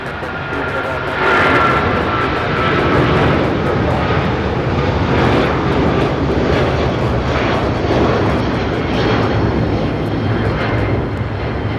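Jet airliner taking off from the south side runways at LAX, a loud, broad continuous engine roar that holds steady across the clip, with people talking over it.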